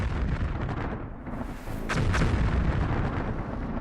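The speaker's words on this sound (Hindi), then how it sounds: "इजराइल जब अमेरिका से मिले बंकर बस्टर बम मारता है तो क्या होता है?" A bunker buster bomb explosion, a loud, roaring, sustained boom with a sharp burst partway through and a heavy rumbling tail, with no talking.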